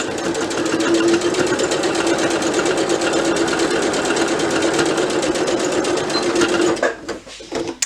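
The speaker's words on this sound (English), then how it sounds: "leaving my needle down, turning, and we're just going to finish off here in backstitch." A sewing machine runs loud and close, stitching a backstitch over fabric pleats in a fast steady mechanical whir, then slowing and stopping near the end.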